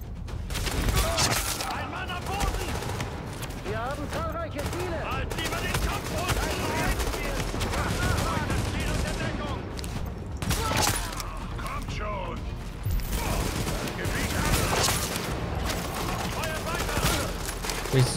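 Gunfire in the co-op shooter Tom Clancy's The Division: dense, continuous automatic fire and overlapping bursts throughout with dull booms and mechanical clatter, while someone talks over the din.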